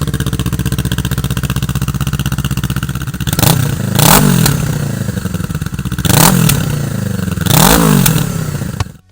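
A Kawasaki Eliminator motorcycle fitted with a CS Racing exhaust and its baffle removed runs very loud and close, with a steady rumbling idle broken by three sharp revs that rise and fall back.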